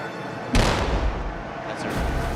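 A warship's deck gun firing its first shot, a single heavy boom with a sharp onset and a long rumbling decay under steady background noise.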